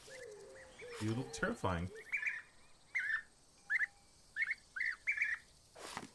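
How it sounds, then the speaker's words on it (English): European bee-eater calls in the wildlife video game Alba: A Wildlife Adventure, a series of short, bright chirps repeated at irregular intervals, with someone talking briefly near the start. "European bee eater."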